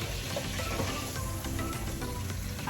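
Pork steak frying in a pan, a dense continuous sizzle with crackles and light stirring clicks, close and loud with no talking.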